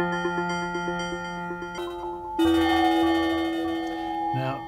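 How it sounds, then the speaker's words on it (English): Bright, pingy tones from four layered FM synth sounds through a resonator and delay ring out with a metallic, bell-like resonance, shifting through several patterns that sound fairly close and steady. "four separate little FM pingy sounds"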